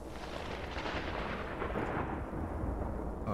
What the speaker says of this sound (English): Oh boy, we got a storm.